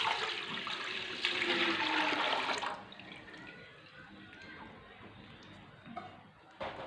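Milk, 1.5 litres, poured into a cooking pot (handi) on a stove for rice kheer, giving a steady broadband liquid gush for nearly three seconds before it tails off into quieter trickling and faint drips.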